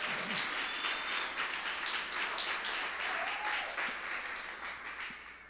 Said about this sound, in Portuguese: Dê um aplauso a Jesus por isso